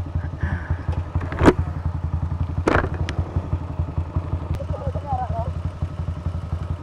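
Motorcycle engine in a video game, a steady low rhythmic drone running throughout with a couple of sharp thumps and clatters over it.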